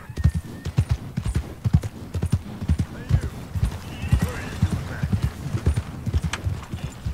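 A horse's hooves clip-clop at a steady walking rhythm in Red Dead Redemption 2, close and distinct, with a short whinny and someone talking over the hoofbeats.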